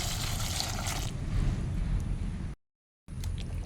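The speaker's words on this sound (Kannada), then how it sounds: "ಇನ್ನು ಇದಕ್ಕೆ ನೀರು ಹಾಕಿ ತೊಳಿತೇನೆ" Water gushes steadily over vegetables to wash them, a loud, close, broadband rush that softens slightly before cutting off abruptly, then resumes briefly.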